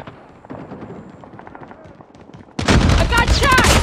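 Gunfire in the Call of Duty: Mobile video game erupts suddenly and loudly after a quieter stretch of distant game noise, a dense close burst filling the last second or so.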